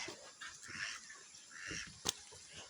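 A dog snuffles and whimpers faintly nearby, with soft panting and one brief sharp noise partway through.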